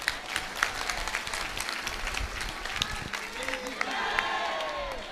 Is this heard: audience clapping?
yes